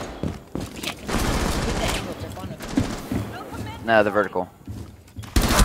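Rapid gunfire from a heavy-recoil gun in a shooter game comes in several bursts, loud and close, interleaved with someone talking.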